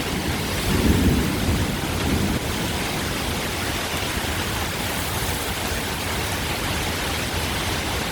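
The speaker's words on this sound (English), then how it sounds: "the big storm has just hit Sydney, and it is like sideways rain." Torrential sideways rain pounds down in a car park in Newtown, Sydney, a dense, loud, steady roar, with a low rumble of thunder early on and no voices.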